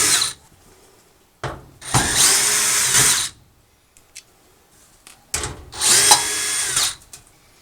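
Power drill backing out 5/16 screws from a dryer's lint chute panel, two loud high-pitched whirring bursts of about a second and a half each, separated by quiet handling clicks and small knocks.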